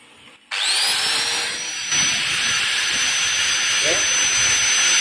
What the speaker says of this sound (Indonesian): Kita tambahkan gerinda ini.